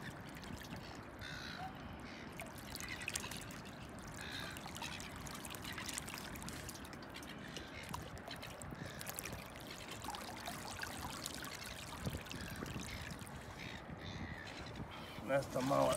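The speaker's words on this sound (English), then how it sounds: "I'll tip out some water so it'll be lighter." Water is tipped out of a mullet trap, pouring and trickling steadily at a low level, with faint voices and outdoor sounds in the background.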